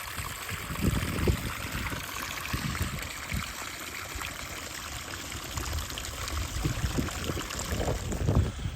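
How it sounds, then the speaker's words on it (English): Water runs out of a garden hose being drained in freezing weather on a cattle farm, giving a continuous close gurgling trickle and splash with some louder surges. "make sure and get every bit of water out of this hose so it doesn't freeze up on us"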